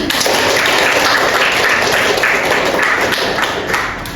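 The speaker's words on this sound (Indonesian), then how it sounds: "beri tepuk tangan" Classroom audience clapping on cue during a teaching session, a dense steady patter of hands close by that holds level for about four seconds before easing slightly at the end.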